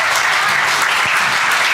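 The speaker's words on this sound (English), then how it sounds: "I know who's clapping for Coney Island over there." Audience applause at a live storytelling event as the next storyteller walks up, steady dense clapping filling the room for just under two seconds, without any talk over it.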